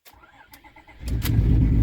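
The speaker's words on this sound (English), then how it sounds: "you can let go of the clutch once the engine starts" A manual-transmission car engine cranks and starts: a few quiet clicks and whirs, then the engine catches around the one-second mark with a loud, steady low rumble close by. There is no talk.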